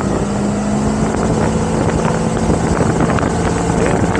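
A motorboat with a Mercruiser MPI engine runs at cruising speed, a steady loud engine drone mixed with rushing wind and water noise that holds constant throughout, without any speech.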